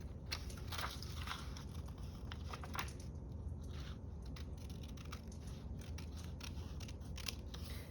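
Scissors snip shapes out of modern packaging, with a quick run of close, crisp cuts early on, then a quieter stretch of sparse snips over a low steady background hum.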